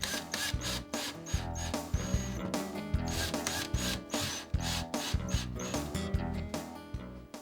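A power drill drives mounting screws into a wall stud, its motor whirring in a rapid series of short pulses with ratcheting clicks, close up and loud throughout.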